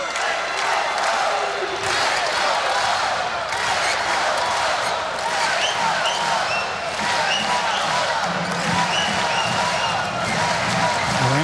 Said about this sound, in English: Fans all clapping for the excellence of the rally, the quality of that rally